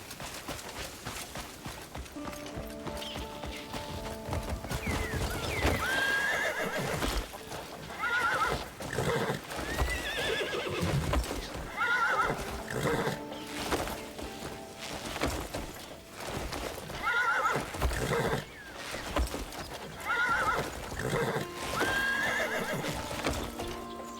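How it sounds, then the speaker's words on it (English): A horse whinnies repeatedly while its hooves clip-clop steadily in Crimson Desert, with the neighs standing out clearly over a continuous game soundscape. "I don't know where that horse is contemplating jumping"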